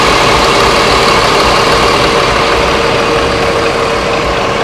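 Inside an Adhi Prima intercity bus on a long trip, the engine runs with a constant, smooth, low drone and steady road noise, loud and unbroken throughout.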